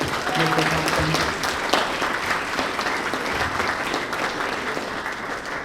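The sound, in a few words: audience applause for the martial arts school staff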